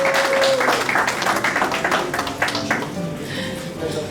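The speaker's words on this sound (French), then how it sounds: "Est-ce qu'on peut acclamer pour lui ce matin?" Church congregation applauding after a baptism, a room full of clapping and cheering that swells early then gradually thins out, with a voice speaking over it.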